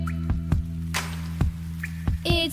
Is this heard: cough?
no